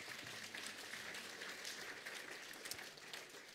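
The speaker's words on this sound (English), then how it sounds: "I believe we can clap." A crowd claps steadily in a continuous, even patter, quiet and distant-sounding throughout, with no voices on top.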